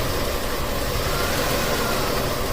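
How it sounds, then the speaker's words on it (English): A 1989 Buick Reatta with a 3.8L engine idles steadily up close, a continuous low rumble with even vibration; the car has a random stalling and hard-starting fault and is running lean. "here's what the car sounds like when it's idling"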